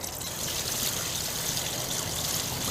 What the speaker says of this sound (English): I'm going to go ahead and use my 5-gallon bucket to just put the water inside.